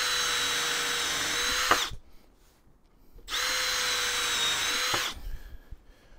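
A power drill whines loudly at a steady pitch in two long bursts, drilling holes in pallet wood, with a brief pause between, then winds down with some clatter.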